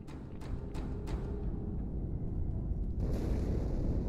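A Halo 2 explosion inside the ship Athens: a deep, sustained low-frequency roar with a few sharp cracks at the start and a fresh surge of rumble near the end, with no voices.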